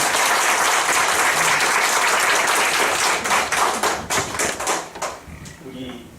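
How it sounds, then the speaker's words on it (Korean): Loud, dense applause from an audience of professors at a Bucheon University teaching seminar, sustained for about three seconds and then thinning into scattered, separate claps before dying away. "기대에 찬 박수는 우렁차게 크게 한번 주시죠."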